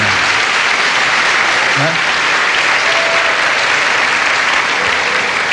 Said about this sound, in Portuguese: essas palmas, esses aplausos